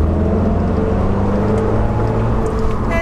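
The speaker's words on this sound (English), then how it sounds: "you can also hear there's a nice little burble from the exhaust" A 2009 Pontiac Solstice sports car gently accelerating, its exhaust giving a low, steady burble and engine hum heard from inside the car at close range.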